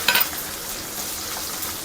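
Dried red chillies, cumin and coriander seeds fry in a pan, giving a faint, steady sizzle with a brief stir or clink near the start.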